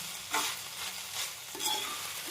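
Pasta is stir-fried with vegetables in a pan for spicy egg pasta, a close, steady sizzle broken by a few quick scraping stirs. No one speaks.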